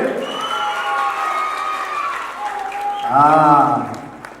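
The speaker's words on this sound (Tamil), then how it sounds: "என்ன கைத்தட்டல் கம்மியா இருக்கு" Crowd applause and cheering at a Tamil awards ceremony, a steady crowd wash under a voice, then a loud shouted voice rising near the end over the clapping.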